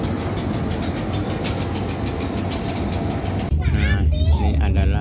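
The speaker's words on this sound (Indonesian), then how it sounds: "Ini kereta api lain yang menunggu" A passenger train waits at a railway station with a steady, loud mechanical rumble like an idling engine. The sound shifts abruptly near the end as a person talks over it.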